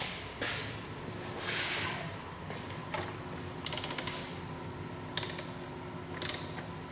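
Ratchet wrench on a bolt of a 2015-2017 Yamaha R1 sport bike: three short bursts of rapid ratcheting clicks over a steady background hum, close and moderately loud, with no speech.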